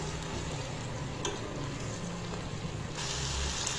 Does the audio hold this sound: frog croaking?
no